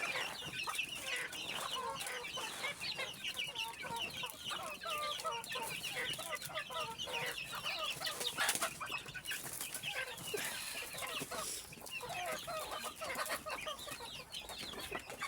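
Hens and chicks on a farm make dense continuous clucking and high peeping, several birds overlapping at moderate distance, with no pauses for the whole stretch.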